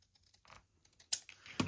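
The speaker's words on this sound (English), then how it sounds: "we're gonna put a little spot right there and cut the last corner" Scissors or a cutter slice through the last corner of quilt fabric scraps: a few faint ticks, then two crisp, close snipping bursts near the end, with no talking.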